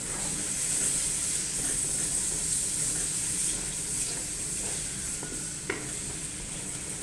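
Yogurt is stirred into biryani masala in a pan as a steady low sizzle and hiss runs throughout. Soft stirring scrapes and a faint clink near the end sit under it.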